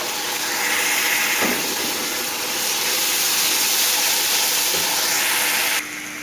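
Water poured into a pan of browned onions and ginger-garlic paste sets off a loud, steady sizzling hiss that carries on for several seconds and then cuts down sharply near the end.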